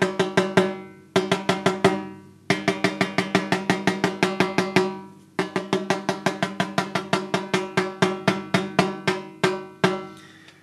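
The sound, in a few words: tapping snare drum head with drum key, snares off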